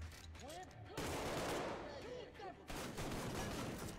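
Gunfire in the Arktica 1 VR video game on Oculus Rift crackles in dense, continuous bursts, fairly close, with a voice talking over it and brief pauses between volleys.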